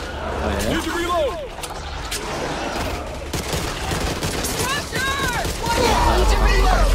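Sustained automatic gunfire crackles through a zombie fight in Back 4 Blood, loud and continuous, with a voice talking over the shooting.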